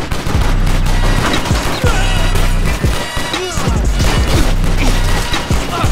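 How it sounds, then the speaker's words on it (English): Dense, loud gunfire fills a shooter video game demo, with rapid overlapping shots, crashes and booms repeating in heavy waves and almost no pause throughout. "I don't know how, but I'm shooting all of them."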